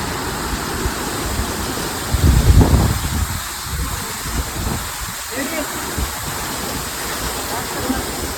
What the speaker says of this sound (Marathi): हा घारीचा वॉटरफॉल आहे